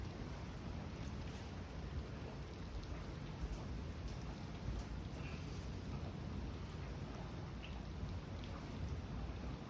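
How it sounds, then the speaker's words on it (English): Heavy rain from a passing thunderstorm cell pours down steadily in a dense, even hiss, with faint scattered drops and distant rumbles during a severe spring weather event in the northeastern US. "that cell that just hit us. That heavy rain has just passed by."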